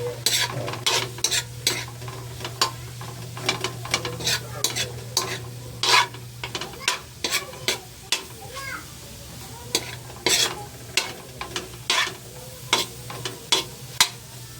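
Pork sizzles in a pan as its fat renders out, a steady frying crackle under repeated sharp clanks and scrapes of a spatula against metal.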